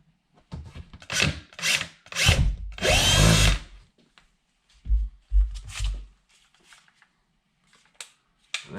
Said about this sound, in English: Go ahead and drill yourself a hole.